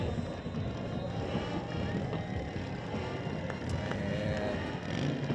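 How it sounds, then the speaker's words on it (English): Motorcycles rev and rumble outside at the entrance of a varsity high school football playoff game, a continuous low engine drone mixed with wind and crowd noise, steady and moderately loud throughout. "We hear the motorcycles revving."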